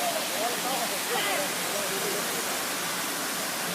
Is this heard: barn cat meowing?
no